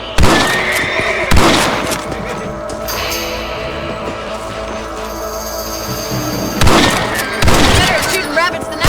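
Rifle shots fired at outlaws during a shootout in a Western video game, a few sharp cracks spaced out near the start and end, with horses whinnying and a voice speaking in between.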